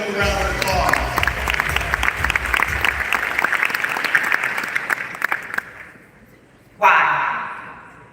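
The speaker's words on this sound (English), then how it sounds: "Let's give them a round of applause." Applause from an audience at a business forum: a crowd claps steadily for about five seconds, then fades into near silence before a voice starts talking.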